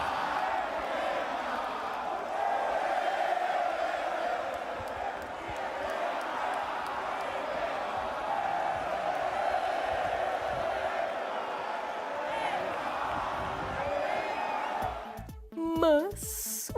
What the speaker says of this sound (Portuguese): depois do segundo gol da França, alguns torcedores brasileiros cantaram o nome do Neymar